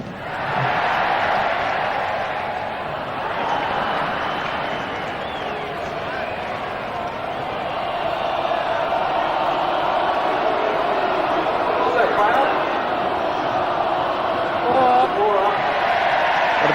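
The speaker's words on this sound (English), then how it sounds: "the crowd enjoying that big hit well over the rope" Large cricket crowd at the 1993 Allan Border tribute match roaring steadily for a big hit over the boundary rope, a broad sustained distant swell of cheering beneath commentary.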